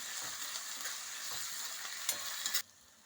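Ginger and green chillies sizzle steadily in hot oil in a pan, with soft stirring scrapes through the crackle, before the frying noise cuts off abruptly near the end.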